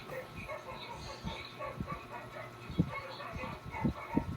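Several dogs bark in short, scattered bursts at a middling distance, growing louder toward the end, over a busy outdoor background with faint voices.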